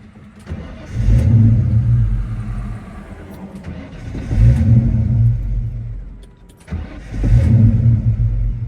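A 1995 car engine prone to stalling revs up in three loud surges, each swelling and then dropping back toward a rough idle, close by.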